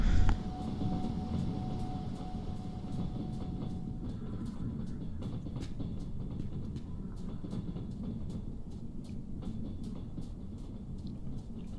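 A locomotive running along a snowy track in the Trans-Siberian Railways Simulator game, a steady low rumble with a regular clickety-clack of wheels over rail joints, moderately quiet and continuous without talk.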